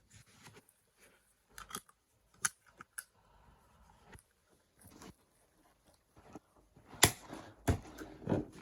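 An EO-19E cheek filter snaps back onto a Soviet PBF gas mask with sharp plastic clicks and small handling rattles, close and quiet, ending in a louder cluster of clicks.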